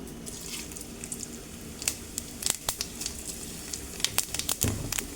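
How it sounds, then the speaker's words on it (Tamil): Fennel seeds frying in rice bran oil for a chicken dry fry give a low, steady hiss scattered with sharp pops and crackles that grow busier toward the end, with no talking. "சோம்பு நல்லா பொரியட்டும்"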